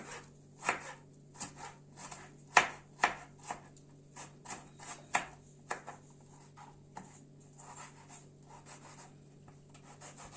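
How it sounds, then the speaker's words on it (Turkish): A knife chops tomatoes on a cutting board in irregular soft taps, a dozen or so, close and fairly quiet over a faint steady hum. "Şöyle domateslerimizi de doğrayalım."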